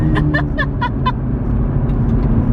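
2019 Chevrolet Camaro ZL1 1LE accelerating hard with its tires spinning, a loud, continuous low engine roar from inside the car, with a few short laugh-like bursts at the start.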